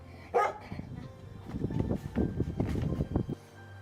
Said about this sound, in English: Oh, that dog foaming at the mouth.